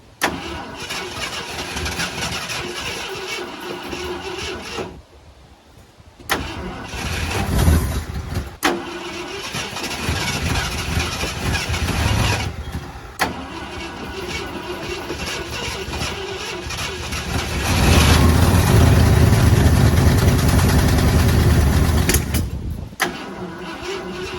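A long-idle Ford F-100 engine cranks and sputters, catching and choking in repeated uneven bursts with brief drop-outs, surging louder toward the end, close and loud with no talk.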